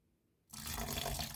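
Wild greens such as stonecrop, water dropwort, chives and white dandelion leaves are washed under a running tap, with the water splashing loudly after a brief quiet start.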